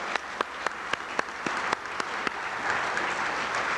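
A crowd applauds actors who played victims in a disaster simulation exercise. Steady clapping is punctuated by several sharp, evenly spaced louder claps near the start, and no one speaks.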